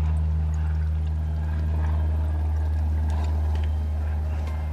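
Aviation fuel drained from an aircraft's wing tank into a sampling jar for about five seconds during a preflight check outdoors: a steady liquid pour over a constant low engine-like hum and outdoor noise, with no talking.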